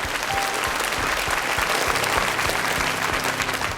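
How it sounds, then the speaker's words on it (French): A studio audience applauds a young girl after she dances a little waltz on a French children's television talent show, the dense clapping steady and sustained throughout. "On applaudit cette danseuse."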